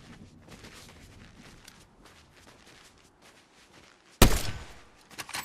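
Gunfire in a Fortnite match: faint scattered pops and movement give way to a sudden loud, close burst of shots that rings out and trails off, followed by a few more hits.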